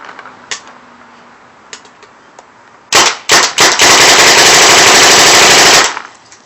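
An Alpha Black paintball gun fires outdoors: a few single pops, then an unbroken rapid-fire stream of loud, close shots lasting about two seconds before stopping.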